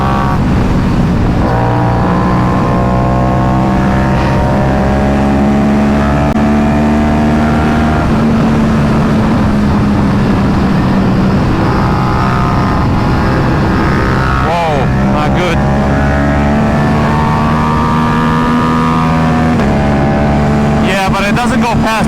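Engine of an RS457 motorcycle fitted with an SC Project S1 exhaust, revving and holding high through the gears, loud and continuous from close range during a ride, with rises and dips in pitch.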